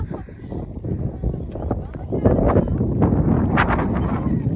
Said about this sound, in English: But it is so windy, and this wind is not helping this town thing.